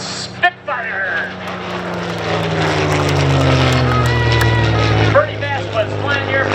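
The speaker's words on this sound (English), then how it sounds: "Supermarine Spitfire!" A Supermarine Spitfire with its liquid-cooled Rolls-Royce Merlin engine flies past at an air show, a loud rising and falling propeller roar that swells and fades, with a couple of sharp knocks near the start and end.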